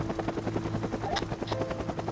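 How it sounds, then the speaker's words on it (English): In the VR video game Alpine Ski Resort, a helicopter's rotor chops at a steady, rapid rhythm and drones continuously and loudly throughout, with no talking. "Let me off this crazy helicopter ride."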